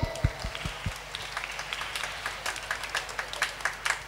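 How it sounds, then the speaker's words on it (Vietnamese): Children and adults at a church Lenten retreat clap together, starting with a few soft thumps and building into a light, scattered round of applause heard moderately close. "vỗ tay"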